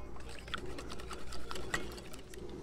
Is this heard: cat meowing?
no